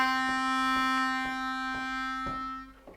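A blues harmonica lick leading into the IV chord of a blues tune, played as steady sustained notes with rhythmic pulses, loud and close, alone with no talking.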